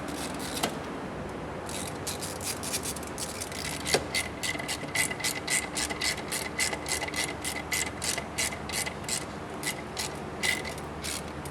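A ratchet tightens bolts on a Rolls-Royce Shadow brake pump, a close, rapid run of clicking strokes in bursts with brief pauses and a single sharp knock near the middle.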